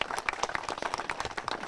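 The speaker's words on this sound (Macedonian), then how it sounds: "заслужен аплауз за професорот" An audience applauds a professor at a commemorative gathering in Lopušnik, a dense, close burst of many hands clapping that continues steadily throughout.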